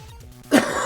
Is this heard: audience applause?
no